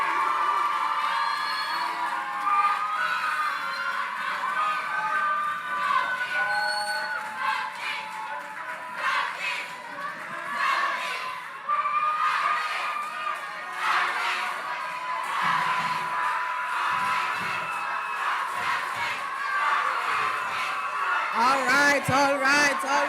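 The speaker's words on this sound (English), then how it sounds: "Let's hear it for these kings and queens one more time." Crowd cheers and whoops for the contestants at a king and queen competition, a loud, sustained mix of shouting voices and applause that rises in bursts, with a voice speaking over it.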